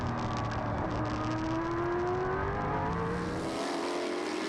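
A V-8 Formula 5000 open-wheel racing car runs flat out through the gears, its engine a steady, loud drone that rises in pitch before a gear change late on, heard close as if onboard.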